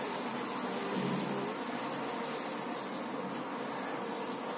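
A steady, dense buzzing of many honeybees at a balcony hive hums continuously throughout, close and unbroken, with no voices.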